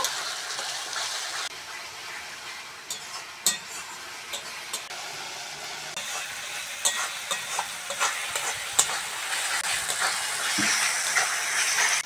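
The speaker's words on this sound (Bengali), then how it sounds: "এবার মশলাটা ভালো করে কষতে হবে, ভালো করে তেল ছাড়া আগে পর্যন্ত কষে নেব" Spice paste of chili and turmeric powder fries in oil while being stirred for a banana blossom curry, a constant close sizzle broken by scraping clicks and taps of the spoon against the pan.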